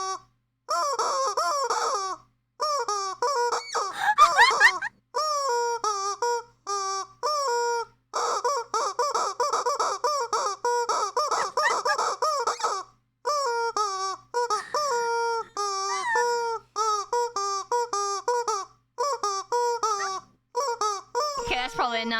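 A squeezed rubber chicken honks out a cover of a song, its loud, close squawking notes shaped into rhythmic melodic phrases with brief pauses between them.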